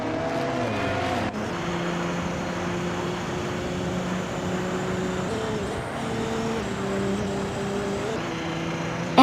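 A 2016 Porsche 919 Hybrid LMP1 prototype in a racing video game, its engine droning steadily with shifting pitch as other race cars run alongside in a continuous pack.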